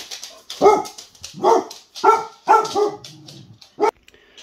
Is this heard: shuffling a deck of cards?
no